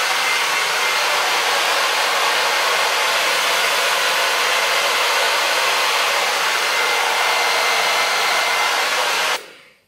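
A hair dryer set to second heat and first speed blows steadily while drying curly hair, a loud constant rushing whoosh that runs throughout and cuts off at the very end.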